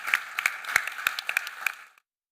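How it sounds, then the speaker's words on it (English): A symposium audience applauds its panelists with brisk clapping that holds steady for about two seconds and then cuts off abruptly. It sounds close and moderately loud. "Round of applause for our panelists."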